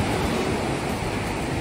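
Ocean waves wash onto a beach at sunset, a close, continuous broadband rush of surf with a slight wind-like hiss and no voices.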